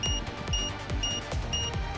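Excavation bomb in Nikke: Goddess of Victory emitting a regular, repeating electronic beep about every half second, each pulse paired with a low thud, clear and alone.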